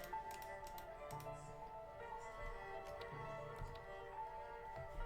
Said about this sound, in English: You can hear my typing noises